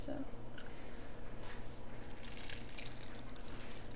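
An egg and milk mixture pours onto noodles in a casserole bowl, a soft wet trickle and squish heard faintly under a steady background hum.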